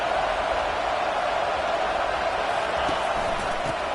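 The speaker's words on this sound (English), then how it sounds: "It is getting loud as this crowd tries to help its defense." A loud football stadium crowd roars continuously, trying to help its defense with a steady, dense wall of cheering and noise that never lets up.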